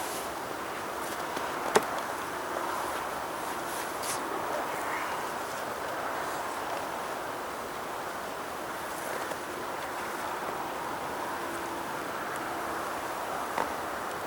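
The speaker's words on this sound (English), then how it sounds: "Lots of bees." Honey bees in a winter hive give off a steady, faint buzzing hum throughout, close to the microphone, with a few soft clicks and no voices over it.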